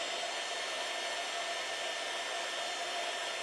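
Hair dryer blowing on glue over wood, a steady, even hiss and whir running continuously at moderate level with no talk.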